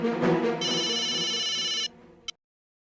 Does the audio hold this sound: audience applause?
no